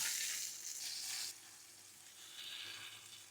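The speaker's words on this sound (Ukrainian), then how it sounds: "Обсмажую баклажани 2-3 хвилини з однієї сторони до рум'яності і перевертаю на іншу сторону" Eggplant fries in a pan with a steady sizzle that crackles, louder at first and then settling into a softer, continuous hiss.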